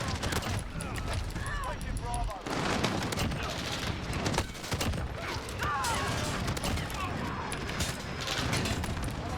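Shotgun gunfire in a multiplayer shooter, repeated booming blasts amid constant game action noise, with a person talking over it.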